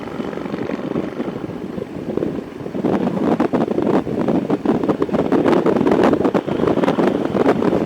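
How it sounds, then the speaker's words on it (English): Steady wind buffeting the microphone while riding through Gunnison National Forest, a broad low rumble that swells louder partway through and keeps gusting to the end. "Little windy."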